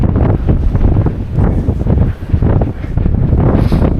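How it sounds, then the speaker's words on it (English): Strong wind on the Watkins Path up Snowdon buffets the microphone in a constant loud, gusting roar that swells and dips throughout, with no talking. "Wind is really beginning to get up"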